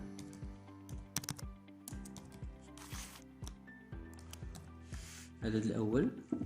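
Keys clatter on a computer keyboard in quick, uneven bursts while someone talks over the typing, the clicks fairly close and modest in volume.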